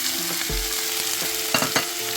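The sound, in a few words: leek frying in a pan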